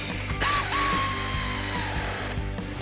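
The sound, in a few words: air ratchet tightening a bolt on a car headlight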